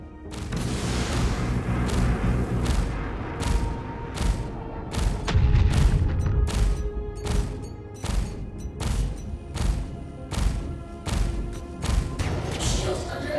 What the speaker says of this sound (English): How about we throw a few missiles at him right off the bat?